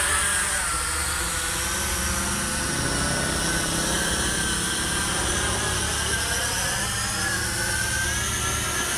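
A small FQ777 FQ02W foldable FPV quadcopter drone in flight, giving a steady, loud broadband whine and buzz of spinning propellers and motors that holds constant throughout without pauses.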